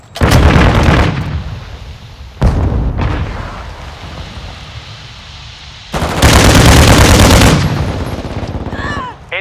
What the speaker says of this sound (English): Throwing grenades!